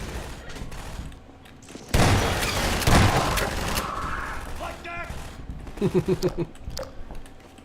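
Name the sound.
gunfire in the Half-Life 2 video game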